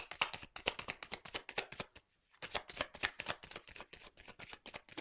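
Tarot cards being shuffled by hand, a quick run of crisp riffling flicks, a brief pause, then another rapid shuffling burst, close and quiet.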